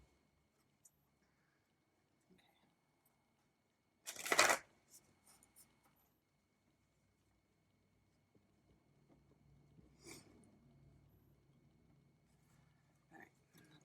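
A single quick riffle of tarot cards being shuffled, crisp and close, in an otherwise quiet room with faint handling noises afterward.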